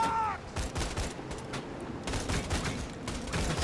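Enemy gunfire rattles in Borderlands 2, with loud rapid bursts of overlapping shots recurring in clusters throughout.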